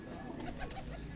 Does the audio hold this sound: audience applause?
no